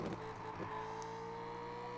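Engine drone from a car in the racing video game Gear Club Unlimited, a steady held tone with no obvious revving, faint and alone.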